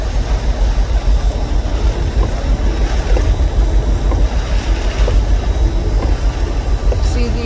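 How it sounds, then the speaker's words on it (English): Wind buffets loudly while surf from hurricane-driven waves roars as steady broadband noise along a Cape Cod outer beach at Chatham; a voice speaks faintly beneath it. "see the waves over there?"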